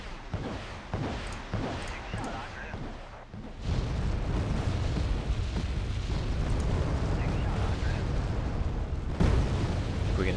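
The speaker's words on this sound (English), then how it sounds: "Here comes that rocket attack, by the way." Rocket or aircraft strike explosions in the Wargame: Red Dragon video game: a dense, sustained rumbling barrage that swells into a continuous roar, with a sharper blast near the end; some talk overlaps the early part.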